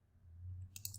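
A few computer mouse clicks on a desk while editing a website in a Wix or Weebly builder, close and quiet, a short cluster of sharp clicks near the end over a low hum.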